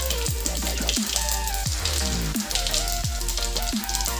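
Sliced onions sizzle and crackle in hot oil spiced with cumin and fenugreek seeds, a steady loud frying hiss broken by repeated clinks and scrapes of stirring.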